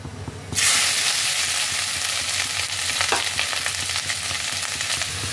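Grated carrot hits hot ghee with a sudden loud hiss, then fries steadily in a pan for a carrot halwa, a dense crackling sizzle broken by occasional scrapes of stirring.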